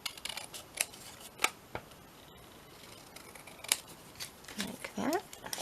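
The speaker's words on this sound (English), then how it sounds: "So let's just cut this" Scissors make several sharp snips while cutting around a paper shape, spaced irregularly and close to the mic, followed by soft paper handling and rustling near the end.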